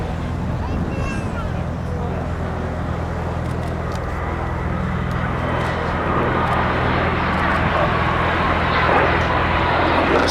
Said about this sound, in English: That's the second of the two aircraft you can see performing a barrel roll in front of us.